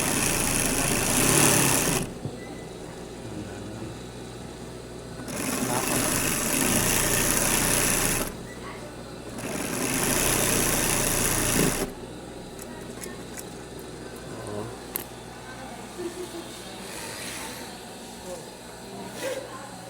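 A double-needle industrial sewing machine runs in a tailoring shop in the Philippines, sounding in several loud whirring bursts of a few seconds each, separated by quieter gaps with shop noise and voices.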